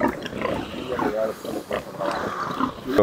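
Purebred Iberian bellota pigs on a farm grunt and snort up close in a dense, continuous chorus of low, rough calls, with a voice talking partly over them.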